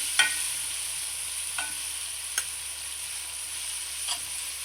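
A cooked tomato mixture sits in a pan with salt, giving a faint steady simmer broken by four brief scraping clicks of a spoon stirring at uneven intervals, close and quiet with no talk.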